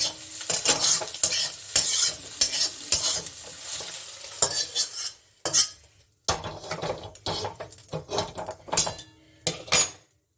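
Okra frying in a pan and being stirred, with loud, close bursts of metal spatula scraping and clattering against the pan over a continuous sizzle, broken by short pauses.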